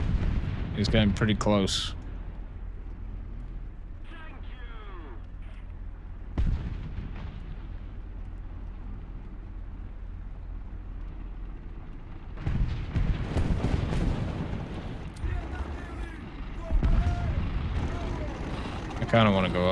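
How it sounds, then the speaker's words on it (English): A Panzer IV tank fires shells in a tank battle video game, with several loud, booming cannon blasts separated by quieter engine rumble. Someone talks between the shots. "This Panzer IV is trying to loop shells."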